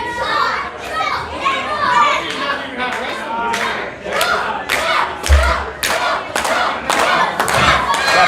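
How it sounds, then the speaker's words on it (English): Wrestling crowd at a live event shrieking and cheering wildly in a dense, continuous roar, high excited voices mixed with sharp claps and thuds from the ring. "The fans are going wild here."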